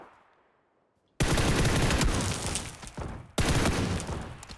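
Loud, continuous automatic gunfire in the battle royale game PUBG, two long dense bursts of rapid shots, the first after a short quiet lead-in and the second following a brief dip.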